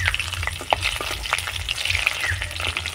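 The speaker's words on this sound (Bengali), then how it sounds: "ফোড়নটা হালকা নাড়াচাড়া করে ভেজে নেব।" Panch phoron spices, slit green chillies and two bay leaves fry in hot oil, giving a steady close sizzle with bursts of spitting and scattered soft stirring clicks throughout.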